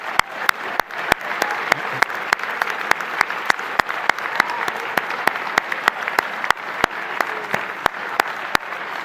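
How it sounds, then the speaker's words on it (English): Sustained applause from a large ceremony audience honoring standing parents at a university matriculation, steady dense clapping with sharp louder claps popping out regularly throughout. "I'll give you a big round of applause"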